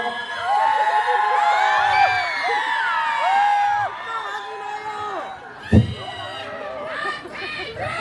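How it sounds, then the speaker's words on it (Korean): A large crowd at an outdoor festival concert in Yeoju, South Korea, shouting, whooping and applauding together, loud and sustained, then fading into scattered calls with a single sharp thump. "여러분의 함성과 박수 들려주세요."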